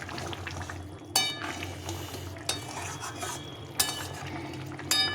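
A spoon stirs a cauliflower, pea and paneer curry in a pan, making four sharp scraping strokes at a slow, regular pace over a low simmering background, with no talk.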